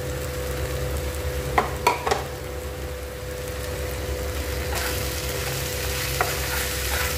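Sabudana khichdi frying in a pan hisses quietly and steadily over a low background hum, broken by a few sharp clinks and scrapes of stirring, with no one speaking.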